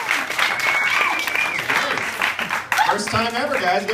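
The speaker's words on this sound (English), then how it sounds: "Give her another round of applause." A crowd at a stand-up comedy show applauds loudly and continuously, clapping filling the room, while a voice speaks over the end of the ovation.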